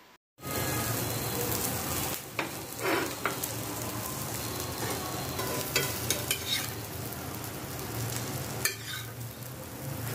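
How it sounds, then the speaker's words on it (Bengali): An egg frying in a pan on a low-flame gas stove, a loud steady sizzle with scraping stirs and clinks throughout, without talk. "এখন ডিম ফ্রাই করে নিচ্ছি"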